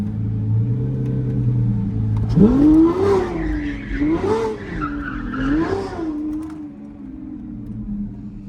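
A supercar on a test drive revs its engine hard, and its tires squeal and skid in long sweeping waves. The sound is loud and close, with a steady low rumble underneath.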